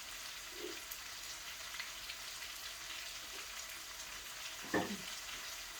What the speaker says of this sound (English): So I got the steaks cooking.